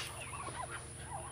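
A turkey gobbles in quick wavering bursts among ducks, geese and other farm fowl, with steady low background noise throughout.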